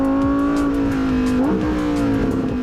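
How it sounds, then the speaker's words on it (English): Lamborghini Huracán Tecnica's naturally aspirated V10 holding a loud, steady high-pitched engine note, then swelling briefly as revs rise near the middle before settling into a sustained wail. "This really is the sound of a 10-cylinder Rapture."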